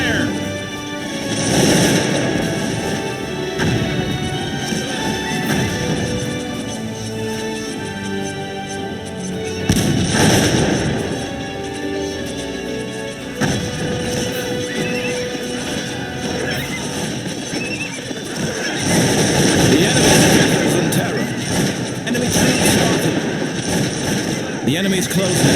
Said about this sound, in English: The enemy opened fire.